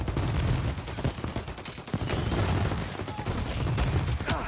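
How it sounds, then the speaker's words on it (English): Dense, continuous gunfire from a Tommy gun in the 1930s gangster game Mafia Definitive Edition: rapid automatic bursts crackling without pause for the whole stretch, loud and close, layered with other shots in a busy firefight. "Somebody with the Tommy gun there."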